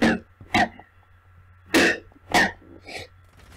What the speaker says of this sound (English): Try to hold back a cough and it doesn't work.